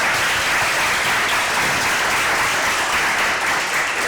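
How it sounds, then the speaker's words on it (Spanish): Steady, dense applause from an audience at a talk on working with the hands at a provincial library in A Coruña, a full crowd clapping loudly and continuously without pause. "Un aplauso."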